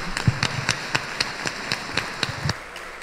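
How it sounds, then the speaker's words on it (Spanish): At an outdoor church festival, applause for a philharmonic band comes as a steady run of fairly even claps with a soft wash of clapping behind, moderately distant. "Un fuerte aplauso para todos ellos."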